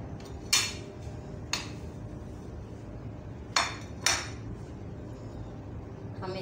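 A knife cuts through a quince on a board, with a few sharp, isolated taps spaced irregularly against quiet background hum, close and moderately soft.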